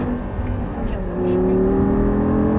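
An Audi R8 accelerates steadily on the Lyon race circuit, its engine note rising in pitch as the revs build and growing louder partway through, heard close and continuous.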